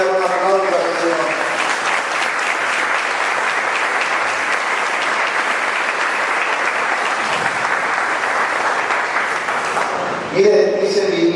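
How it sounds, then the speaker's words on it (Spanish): A church congregation breaks into loud, sustained applause during a Spanish-language sermon, steady clapping filling the whole stretch before a voice returns at the end. "¿Cuántos le pueden dar un aplauso al Señor?"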